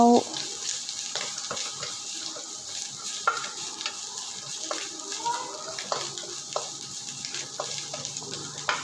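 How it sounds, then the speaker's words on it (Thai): Pounded garlic stir-frying in a pan, with a steady close hiss of sizzling and occasional clinks of a spatula scraping the pan over several seconds. "ก็จะพัดกระเทียมให้เหลืองหอมก่อนเจ้า"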